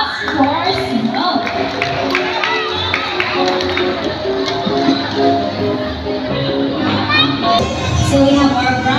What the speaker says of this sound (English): how about a round of applause for Snow?